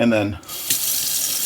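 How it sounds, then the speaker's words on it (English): After a brief spoken phrase, a kitchen tap gushes steadily into a sink as peeled hard-boiled eggs are rinsed, a loud, close, continuous hiss of running water. "I'm going to rinse off any little egg shells and put it in a bowl off to the side"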